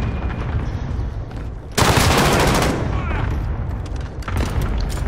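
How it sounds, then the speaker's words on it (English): Gunfire in Modern Warfare, fought in a mall: steady background shooting swells into a loud burst of rapid automatic fire, then keeps going with scattered shots. "Where's he shooting from?"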